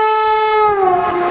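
The Secunderabad–Visakhapatnam Vande Bharat Express sounds a loud, sustained horn as it passes close by, the tone dropping slightly as it goes, with rail noise underneath.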